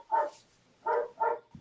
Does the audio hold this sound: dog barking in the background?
yes